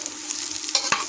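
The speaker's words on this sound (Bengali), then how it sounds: "এজন্য আমি রসুন ভেজে রান্না করছি।" Garlic frying in hot oil in a pan, with a steady close sizzle, light stirring and a couple of brief louder scrapes near the end, no talking.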